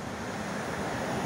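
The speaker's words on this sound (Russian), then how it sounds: "У нас ветер." Steady rushing wind buffeting the microphone, a continuous broadband roar with low rumble and no voices.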